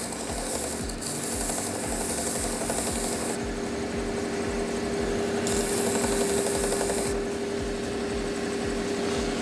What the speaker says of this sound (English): I look and see, and now I have to sand some more